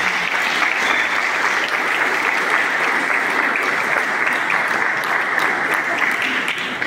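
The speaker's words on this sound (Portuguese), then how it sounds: "Dê um aplauso ao Senhor Jesus" Congregation at a church child presentation service applauding Jesus, loud, sustained, dense clapping that fills the room without pause.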